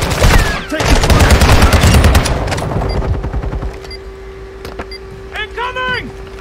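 Video game gunfire, loud rapid bursts of automatic fire that dominate the first half and then thin out to scattered shots, with voices over the action.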